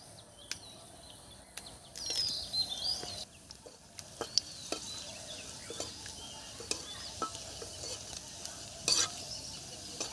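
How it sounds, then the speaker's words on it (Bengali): Green chilies, torn and dropped into hot oil for tempering a spicy mourola fish dish, give a soft, low sizzle with occasional clinks and stirring scrapes, quiet and close, with faint birds or insects outdoors. "চারটে লঙ্কা নিয়ে নিয়েছি, এখন ফোড়নে দেব।"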